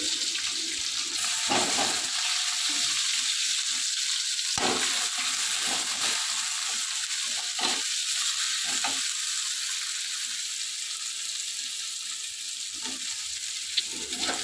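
Black cumin, chopped onion and whole peeled garlic cloves fry in hot oil in a wok, giving a steady, even sizzle with occasional short stirring clatters and no talking.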